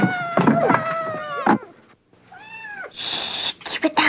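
A hungry kitten meows in rising and falling cries, close and clear, a few times in succession, alongside a brief thump and voices talking nearby.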